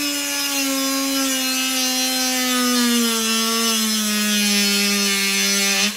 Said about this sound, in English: Set the machine running and slowly drill your way through the hole.